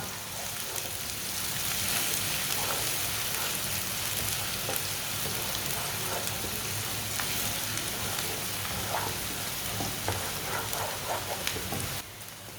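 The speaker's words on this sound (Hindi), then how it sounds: "प्याज को हल्का सा ब्राउन कर लेंगे। ऐसे ही चम्मच चलाते हुए इसे ब्राउन करना।" Chopped onion fries and browns in a pan, stirred with a spoon: a dense, steady sizzle fills the whole stretch with scattered small crackles and pops, close and fairly loud, with no talking.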